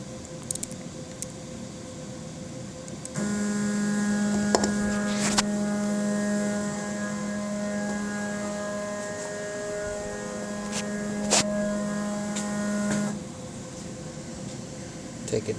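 A CNC router used to carve a jewelry box raises its Z axis, giving a steady electronic whine of layered tones that holds for about ten seconds over background hum, broken by a few clicks.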